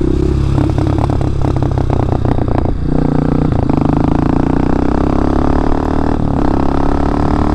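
A 2003 Honda CRF230F dirt bike rides over wet ground, its single-cylinder engine buzzing loud and close, with clattering and scraping over a steady drone and a couple of brief throttle dips.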